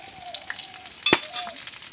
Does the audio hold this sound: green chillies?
yes